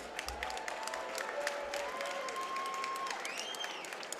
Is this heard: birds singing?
no